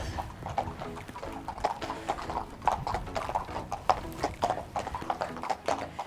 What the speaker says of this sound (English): I'm hearing some hoof steps.